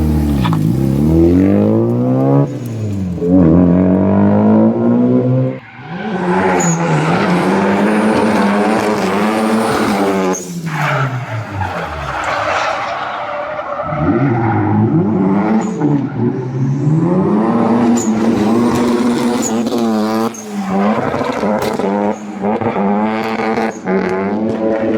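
A race car laps a track, its engine loud and close as it revs up through the gears, drops for downshifts and climbs again in repeated sweeping pitch rises, with no talking.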